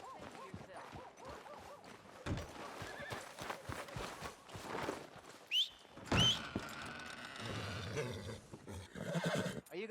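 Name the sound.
horse hooves and whinny in video game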